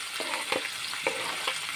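Chicken pieces frying in a pan on the stove for white sauce pasta, a continuous close sizzle broken by a few scraping stirs, with no voices.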